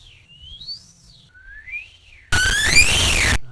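A person trying to whistle outdoors beside a quad, two thin rising-and-falling whistled notes, faint and breathy, followed by a louder, noisier whistle burst at the end.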